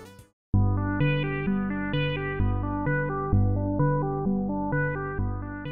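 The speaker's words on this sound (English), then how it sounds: "The music you're hearing now was done entirely with the DreamStation synthesizer." Analog-style synthesizer music from the DreamStation software synthesizer plays a bright, buzzy chord sequence with sustained notes changing in a steady rhythm, following a brief burst of noise.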